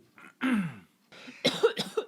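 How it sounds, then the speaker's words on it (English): A person coughs several times up close, a short burst, a pause, then a rougher run of hacking coughs. "I know that during this segment right here that I'm going to be coughing."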